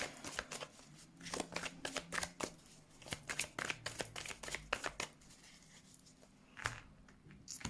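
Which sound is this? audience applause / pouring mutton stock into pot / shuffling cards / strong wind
shuffling cards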